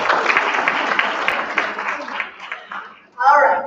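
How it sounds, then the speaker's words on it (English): Audience of women at a Women's Health Day program applauding, a dense run of clapping that thins out and stops, followed by a brief burst of voice. "So let's give you a round of applause."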